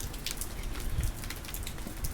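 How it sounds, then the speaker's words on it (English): Steady rain falls in bright sunshine on a hot day in Detroit, making a continuous close patter of drops on surfaces with a few louder splashes and no voices. "but raining."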